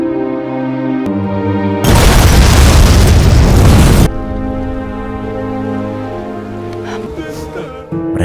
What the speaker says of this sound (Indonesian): menyaksikan ledakan tersebut